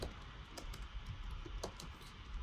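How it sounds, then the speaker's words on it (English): Keys clacking on a computer keyboard while a search term for fabric is entered into design software, a few quick separate strokes over a steady low background hum. "press return enter on the keyboard"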